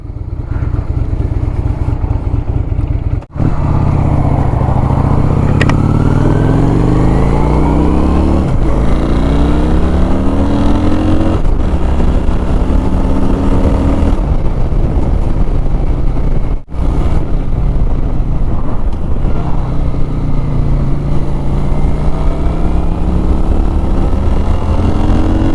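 A Honda Shadow motorcycle rides along a road, its engine droning loud and close as it repeatedly rises and falls through the gears under heavy wind rush, with no talk.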